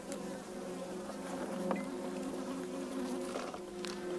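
Honey bees buzz steadily around an open backyard hive during an inspection, a close, continuous droning hum with a few louder passes of individual bees and no talking.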